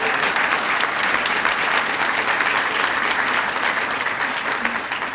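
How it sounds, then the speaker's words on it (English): An audience at the swearing-in ceremony of a police chief breaks into applause. A thick, even stretch of many hands clapping holds at a steady level throughout. "let's give him a round of applause"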